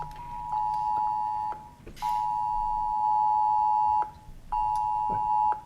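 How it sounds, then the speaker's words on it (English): A mobile phone emergency alert for a tornado warning sounds repeated loud, steady electronic tones in long pulses with brief gaps, inside a meeting room, with no talking. "mine ain't the only one going off. Tornado warning. Everybody's phone's going off."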